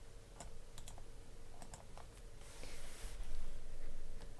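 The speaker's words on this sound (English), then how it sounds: "I will physically type it in the chat box." Typing on a computer keyboard comes in quick, faint clusters of key clicks, close by and uneven in rhythm, over a low room hum, with no one speaking.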